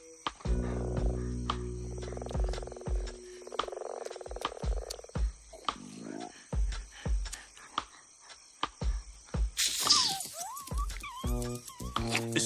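A toad croaks in a comedy film scene, giving a series of loud, close, rhythmic pulsing croaks and clicks that end in a higher squealing wail.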